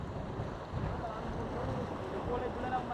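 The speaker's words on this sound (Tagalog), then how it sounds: "Sarap ng hangin dito, malamig." Soft, steady wind blows across an open space near water on a mountain climb at Mt. Gulugod Baboy, a constant low whoosh with a faint wash of waves underneath.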